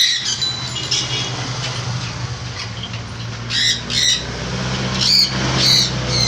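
Many caged birds squawk and chirp inside a bird shop at Nimtala, their sharp, overlapping calls bursting out in clusters over a steady low hum of background noise.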